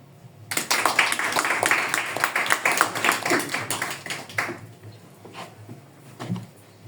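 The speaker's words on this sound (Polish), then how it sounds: "Cześć, brawa." An audience in a small Kraków bar, Classic Rock on Rajska 24, applauds a stand-up comedian at an open mic. The clapping is lively and dense for about four seconds, then fades to a few scattered claps.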